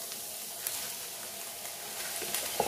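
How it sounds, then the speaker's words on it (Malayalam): Basmati rice roasting in a pan for green peas pulao gives a soft, steady sizzle, faint and continuous, with a few small clicks and scrapes of stirring near the end. "ഇതിലേക്ക് നമുക്ക് അരിയും കൂടെ ചേർത്തൊന്ന് വറുത്തെടുക്കാം."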